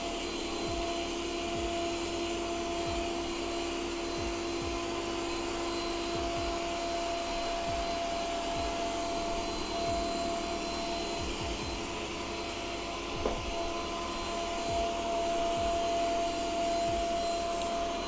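A Yeedi Vac Max robot vacuum cleaner running indoors, a steady close whirring hum with a constant motor whine and occasional soft bumps and knocks as it moves around.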